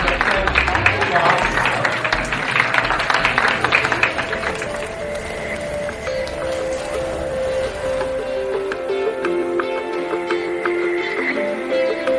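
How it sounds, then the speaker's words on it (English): Audience applause fills the hall as a dense, loud wash of clapping that thins over the seconds, with music and crowd noise underneath. "Big round of applause for the"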